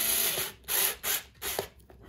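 Cordless drill driving a screw, several short whirring bursts of the motor separated by brief pauses, close and fairly quiet.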